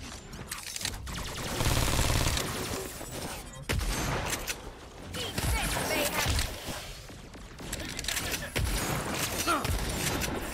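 Gunfire in the video game Agents of Mayhem, with dense bursts of shots and mechanical clatter running nearly throughout, loud and busy with brief lulls.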